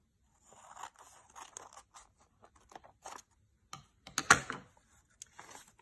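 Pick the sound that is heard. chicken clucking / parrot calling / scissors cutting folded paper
scissors cutting folded paper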